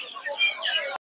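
Farm chickens at Putia poultry market in Narsingdi, Bangladesh, clucking and chirping in a steady, busy run of close calls, stopping abruptly after about a second.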